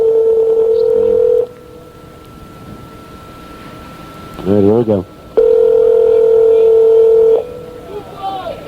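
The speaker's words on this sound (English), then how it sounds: "We're going to dial them back and see what we can get here." A steady telephone dial tone hums, cuts off for a quick burst of dialing tones, then returns loud and steady; someone speaks briefly near the start.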